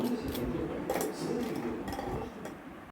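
Crispy fried potato balls are tapped together and against a dish, giving a few light hard clicks and clinks at close range, fairly quiet and with no talking.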